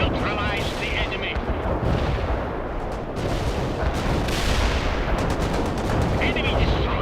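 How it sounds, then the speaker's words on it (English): Artillery strike in the video game World in Conflict: heavy, booming explosions and rumbling blasts pile up in a continuous barrage, with sharp cracking bursts layered over a low roar. "Molotov here. Firing for effect. Over. Molotov here. Artillery strikers on the way."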